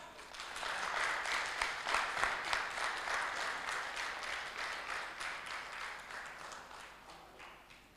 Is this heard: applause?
yes